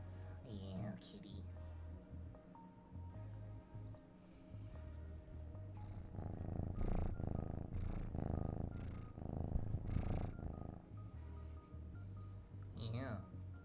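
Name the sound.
cat purring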